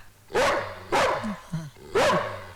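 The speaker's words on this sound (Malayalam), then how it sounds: "ആ കട്ടിലേ കിടന്ന് കൊരയോട് കൊര കൊര കൊരോ കൊര കൊര" A dog lying on a bed barks three times, loud and close, with short yips between the barks.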